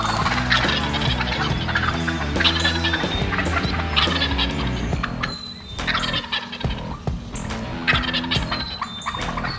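Wild turkey gobblers gobble repeatedly in loud, rattling bursts, several birds calling over one another up close in open country.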